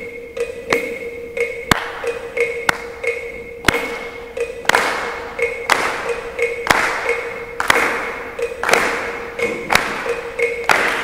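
Audience at a music education residency session claps along in a demonstration, sharp rhythmic claps and thumps landing at a steady roughly one-per-second pulse over a sustained ringing tone.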